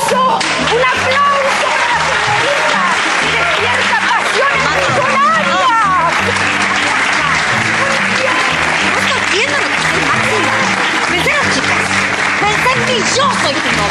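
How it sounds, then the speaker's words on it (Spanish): A studio audience breaks into sustained, loud applause at a Spanish-language television show, steady clapping with crowd chatter layered through, while voices talk over it. "¡Un aplauso! ¡Un aplauso!"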